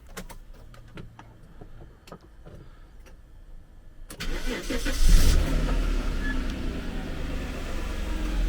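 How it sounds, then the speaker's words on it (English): After some quiet clicks and ticks, a Jaguar XJ40 engine starts and settles into a steady idle, warming up close by without letting up. "before I do that, I'm actually gonna warm the engine up again."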